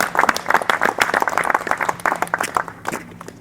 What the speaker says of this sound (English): So a round of applause for ourselves.